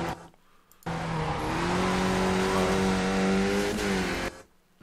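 A Skip Barber race car in iRacing at Oran Park, its engine surging to full throttle after the apex with a steadily rising whine, loud and close, then cutting off near the end.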